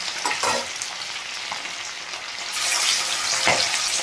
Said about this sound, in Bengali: তো মাছটা চলুন আগে ভেজে নিই